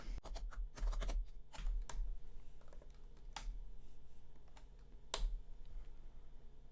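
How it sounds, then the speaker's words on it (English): Quick, irregular keystrokes on a computer keyboard, close and crisp, with bursts of several taps separated by short pauses and a lone sharper strike near the end; no one speaks. "I'll just type it."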